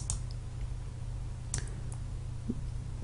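A few faint, sharp clicks spaced over a few seconds against a quiet background hum, like a computer mouse being clicked.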